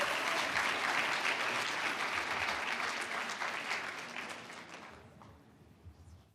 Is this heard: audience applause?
yes